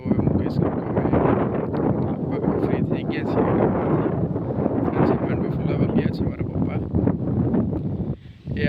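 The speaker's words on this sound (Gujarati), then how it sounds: "આજે ડેઇલી કરતાં પવન પણ વધારે છે મારા વિડીયોની અંદર આવતો જશે પવનનો અવાજ વધારે" Strong wind sweeps across an open farm field in Gujarat, roaring and buffeting the microphone in loud, continuous gusts that barely let up before dropping off sharply at the very end.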